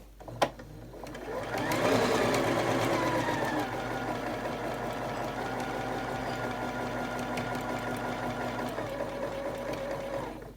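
A sewing machine stitches a catch-all caddy with no top thread in, starting after a brief click and running as a steady, close, continuous whirring hum to the end.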